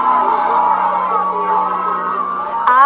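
Protesters at a demonstration against deportations yell and shout together in a loud, sustained crowd roar, with one voice rising in a sharp bellow near the end.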